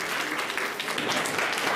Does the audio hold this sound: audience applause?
yes